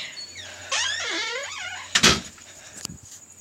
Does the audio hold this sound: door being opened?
yes